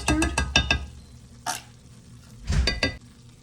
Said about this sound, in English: Stir this all together.